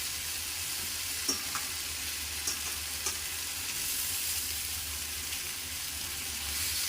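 Fried potatoes are stirred into a cooked spice mix in a pan, with a continuous quiet sizzle and a few light scrapes and knocks from the spoon against the pan.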